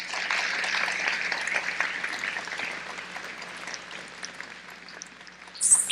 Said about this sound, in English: you can clap for them there